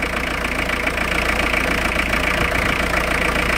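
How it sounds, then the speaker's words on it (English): A motorhome engine idles steadily nearby, a loud, even mechanical rumble with a faint knocking texture and no change in pace throughout. "Let's turn the engine off, see what the voltage is with the engine off."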